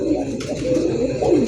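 A pigeon coos close and loud in a short, throaty burst, with a faint murmur of voices in the background.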